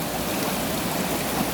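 A river flowing near Canaries waterfall in Saint Lucia gives a steady, broadband rush of water, constant and fairly close, with no voices over it.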